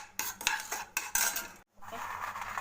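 A spoon clinks and scrapes against a bowl or pan while snack ingredients are mixed, in short bursts separated by brief pauses and one moment of near silence.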